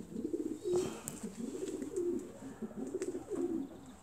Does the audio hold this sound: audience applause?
no